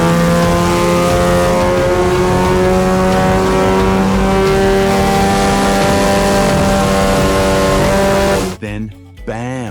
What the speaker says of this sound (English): I strapped it to a dyno and revved it hard.